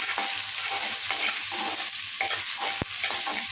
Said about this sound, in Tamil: நல்லா பொன்னிறமாக மாறட்டும். அது வரைக்கும் நல்லா வதக்கி விட்டுக்கலாம்.